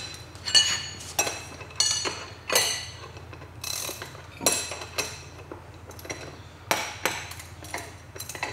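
Suspension hardware being tightened on a John Deere Z997 commercial ZTrak zero-turn mower during a ZGlide suspension install: close, sharp ratchet clicks and metallic clanks in uneven bursts, with no talking.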